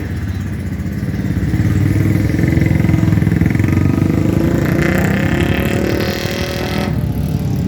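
Motorcycle engines at the start of a race, a loud sustained roar that rises as the bikes rev, with no speech over it.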